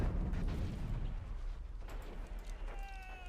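A grenade explosion in a video game: a loud, rumbling low boom at the start that decays into a sustained dull roar, with faint tonal game sounds entering near the end.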